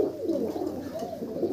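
Pigeons kept singly in a loft, male and female separated, giving soft low cooing over a brief stretch, close and moderately quiet, no talk.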